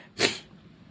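A single short, breathy cough bursts out from a person with a cold, close to the microphone, followed by faint room quiet.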